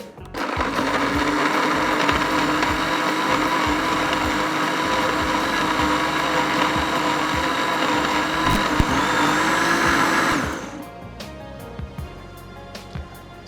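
A blender whirs loudly and steadily for about ten seconds blending butternut squash soup with sage, then cuts off, leaving a few faint clinks.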